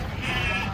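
A sheep being unloaded from a truck gives one loud, sustained bleat, close by, against a steady background rumble.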